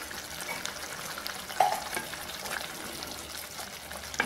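Pepper egg curry gravy made with sesame oil simmers in a clay pot, giving a soft, continuous bubbling and sizzling with small pops and one sharper spit, fairly quiet and close, with no talking.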